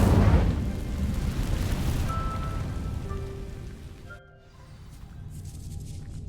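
A fire spell ignites dry vines in the Hogwarts Legacy video game, a loud whooshing, crackling burst of flame at the start that rumbles on and fades before a brief quieter lull.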